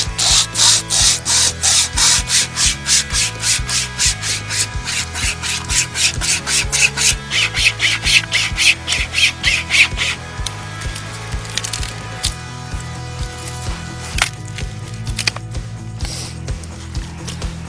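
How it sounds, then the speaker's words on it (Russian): Hand saw cutting through a tree branch outdoors on Olkhon Island at Lake Baikal, with fast, even, rasping back-and-forth strokes that gradually slow and grow rougher and more irregular as the cut goes deeper, with no talk. "Сейчас будем пробовать пилить вот этот сук."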